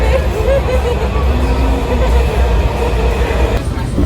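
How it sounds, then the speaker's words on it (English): Subway train rumbling at the Capitol South metro platform in Washington, D.C., a steady low drone with babble from people waiting close by throughout. "We're on the platform, getting ready to board the train."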